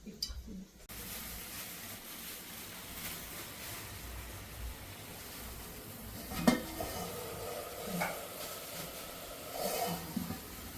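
Chopped onion frying in hot oil in a home kitchen, a steady soft sizzle throughout with occasional clinks and stirring scrapes of a utensil against the pan.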